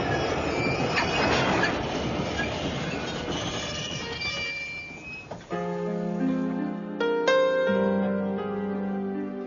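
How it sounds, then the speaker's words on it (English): Radio drama sound effect of trains running: a loud rumbling rush of rolling railway cars, then squealing wheels and sustained whistle-like tones that cut in and out. "And now let us stop these trains."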